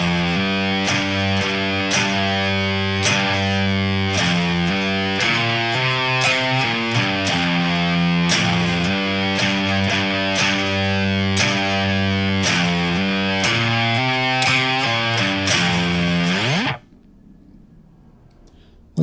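A full bar of a stoner rock pentatonic riff on a thick, fuzzy distorted electric guitar: busy triplet runs and driving eighth notes play continuously and loud for over fifteen seconds before cutting to near silence.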